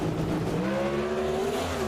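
Pro Stock drag race cars at a national event in Seattle scream as their engines rev hard, a loud, continuous rising engine note close by.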